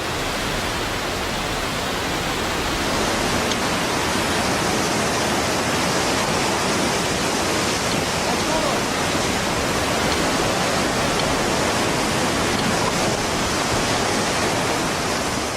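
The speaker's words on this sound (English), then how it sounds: "The clues to the uplift are found in the fast-flowing rivers that tumble through these valleys" A fast-flowing mountain river tumbling through a valley makes an unbroken, full-bodied rush of water, loud and even throughout, with no voices over it.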